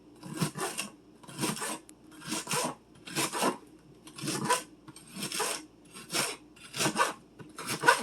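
Steady knife chopping through crisp fresh celery in quarter-inch slices, about ten crunchy cuts in an even rhythm, close and fairly loud with no talking.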